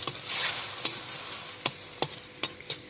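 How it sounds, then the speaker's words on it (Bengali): Ground spice paste frying in hot oil in a wok for a village-style chicken and potato curry, a soft steady sizzle broken by several sharp clicks of stirring, close and moderately quiet with no talking. "আপনারা দেখতে পাচ্ছেন যে আমাদের মশলাটা ভাজা চলছে"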